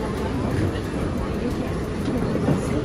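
An airport train runs steadily from inside the car, giving a dense, continuous rumble with faint rhythmic clatter under a steady hiss.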